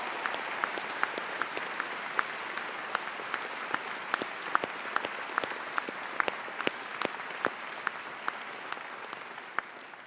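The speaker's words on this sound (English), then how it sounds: "Please give Leah an extra round of applause." Audience applause at a university graduation ceremony in Birmingham, a steady wash of many hands clapping, with some louder individual claps standing out, moderately distant and fading slightly at the end.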